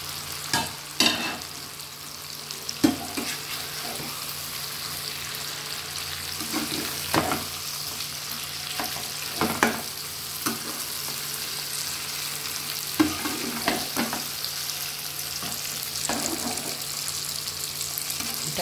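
Eggs frying in a pan for tomato egg curry, with a steady sizzle and repeated utensil clacks and scrapes as the mixture is stirred, close and without speech.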